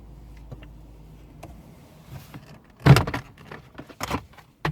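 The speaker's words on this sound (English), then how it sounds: "keys out of the ignition first." Keys are pulled from the ignition of a Renault Twingo II, giving a sharp jangle and clicks close by after a quiet stretch, followed by further small clinks and rattles, with no talk.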